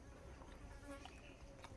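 A housefly buzzes faintly and steadily nearby indoors, a thin continuous drone with no voices over it.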